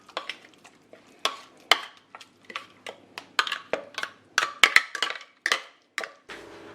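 Murtani, a spicy choka, being tipped into a bigger bowl and stirred, giving close, irregular clinks and scrapes of a utensil against the bowl.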